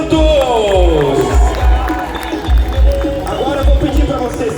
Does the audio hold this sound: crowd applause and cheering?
yes